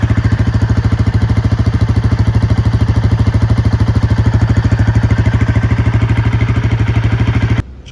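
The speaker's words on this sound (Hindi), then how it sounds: "This is the exhaust note of this bike." A Royal Enfield Himalayan 450 motorcycle idles in cool outdoor air around 10–11 degrees in Greater Noida. Its steady, loud, close exhaust thumps in an even rhythm, then cuts off abruptly near the end.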